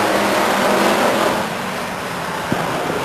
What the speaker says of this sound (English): Lovelace gets by the 22 car of Duncan, and now he's got Duncan between he and Doug Lane.